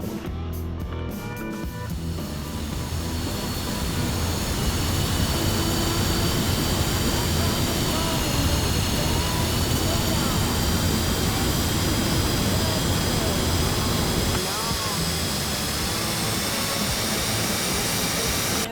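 Piston aircraft engine droning on the runway in a flight simulator game, a steady loud hum with a rising whine that holds through the clip, with a voice briefly talking over it.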